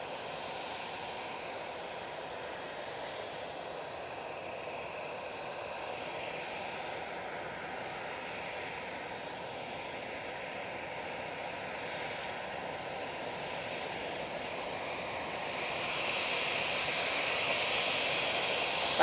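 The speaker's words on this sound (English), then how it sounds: "Next out, should have this EasyJet." EasyJet Airbus A320 jet taxiing at Manchester Airport, a steady, fairly distant engine whine and broadband roar that slowly swells toward the end, with no voices over it.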